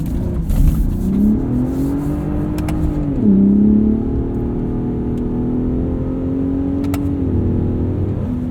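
A 2021 Ford F-150 Raptor with the 37 Performance Package drives a dirt road, its engine revving up and shifting through gears with smooth rising tones and a steady, close roar inside the cab.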